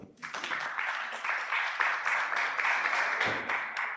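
An audience at a university communication symposium applauds a speaker, with a burst of clapping that rises quickly, holds steady and slightly distant, then trails off near the end.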